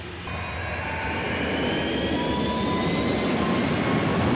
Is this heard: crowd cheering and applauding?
no